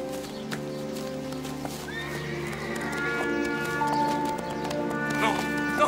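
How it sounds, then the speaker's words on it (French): Horses whinny and neigh in a TV drama scene as hooves clip-clop away, with several high rising whinnies over steady hoofbeats and people talking underneath. "Ah, bien sûr que les chevaux vont partir."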